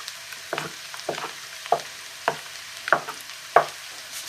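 Tomato pulp with cumin seeds and spices sizzles in a pan while a spoon stirs it, giving a steady frying hiss broken by about seven soft scraping strokes at a regular rhythm.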